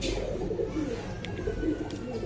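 Pigeons, a pair of khaki Giribaz high flyers at a market stall, coo softly in low repeated murmurs with a steady crowd din around them.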